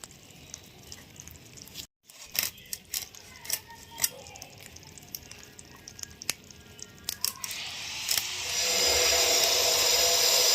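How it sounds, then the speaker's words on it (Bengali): A knife cuts through small mud crabs, with crisp irregular clicks, cracks and wet squishes close by. A steady hiss rises near the end. "যে পাতি কাঁকড়া কাটবো এখন আমি, লাউ দিয়ে রান্না হবে"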